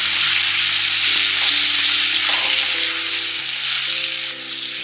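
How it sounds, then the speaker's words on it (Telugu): Spices and capsicum sizzle in hot oil in a pan while being stirred for a capsicum besan curry, a loud continuous frying hiss close up with faint scraping, no talking. "వీటిని మనం బాగా మిక్స్ చేసుకోవాలి"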